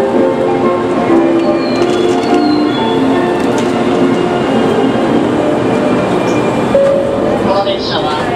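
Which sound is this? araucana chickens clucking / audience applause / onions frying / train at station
train at station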